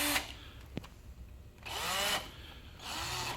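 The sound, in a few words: power drill drilling a hole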